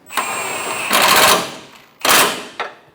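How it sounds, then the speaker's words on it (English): A power tool snugging bolts on the underside of a 2014-2018 Chevrolet Silverado 1500 bumper bracket, three loud close whirring bursts, the first long, then a short pair. "Snug the bolts down on the bottom side of the bumper."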